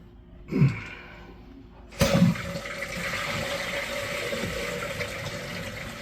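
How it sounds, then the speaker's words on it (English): A toilet flush: a brief splash and gasp-like sound, then a sudden loud rush of water as the flush starts, settling into a steady hiss of the tank refilling after a newly set toilet is flushed. "Oh, there's some water coming on. And it's filling up that tank."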